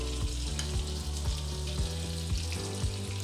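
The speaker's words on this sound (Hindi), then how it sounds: "कढ़ाई गर्म हो गई है, अब हम डालेंगे इसमें देसी घी" Desi ghee heats and sizzles in a hot kadhai, a steady close crackling hiss with soft irregular pops and light stirring scrapes, no voices over it.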